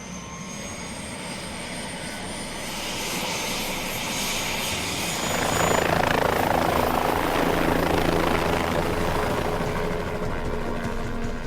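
A helicopter's steady rotor and engine roar fills the scene, heard from inside the metal cabin in flight, growing louder and closer midway, a continuous heavy thrum with no voices.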